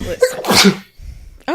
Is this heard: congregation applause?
no